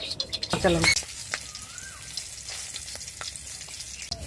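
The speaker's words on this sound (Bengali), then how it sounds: "প্রথমে দিয়ে দেব ফোড়নে দারচিনি লবঙ্গ" Cinnamon and cloves hit hot oil for a red chicken curry tempering, a burst of crackling sizzle early on, then a lighter frying hiss with scattered pops.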